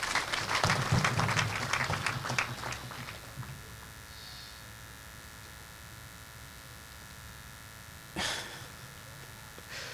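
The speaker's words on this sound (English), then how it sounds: "I ask you, the audience, please clap for the organizing committee" Audience at a Corpus Christi Mass clapping for the organizing committee, a loud burst of applause that fades out within a few seconds, followed by near silence and one brief sharp noise.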